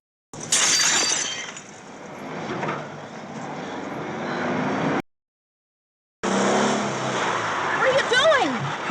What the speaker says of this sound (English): Yeah, Rick's car is pretty much dead. Well, the windows at the very least.